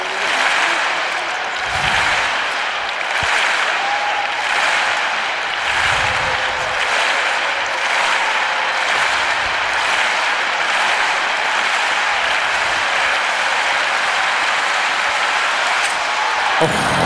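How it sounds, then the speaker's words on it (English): Large stadium crowd claps in rhythm for high jumper Vlasic at a Diamond League athletics meeting in Rome, a broad sustained wash of clapping and crowd noise lasting throughout, with occasional voices. "she couldn't have asked Stuart for any better rhythmic clapping than that"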